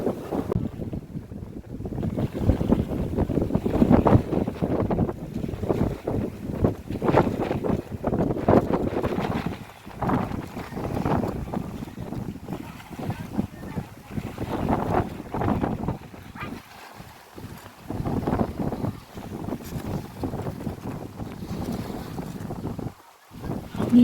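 Strong wind sweeping across Laguna Lake by the water, gusty roaring buffets hitting the microphone in uneven surges, with a low rumble underneath and no talk.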